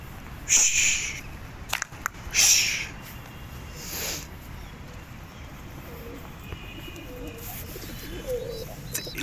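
Pigeons coo softly in the background, low throaty calls, with a few brief louder rustling bursts early on.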